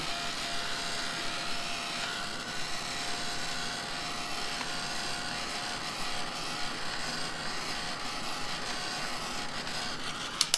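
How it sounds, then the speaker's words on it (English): A worn-out heat gun runs with a continuous, rough blowing whir throughout, a strained motor hum that stays loud and even with no talking. "I think my heat tool sounds like it's on its last legs to me"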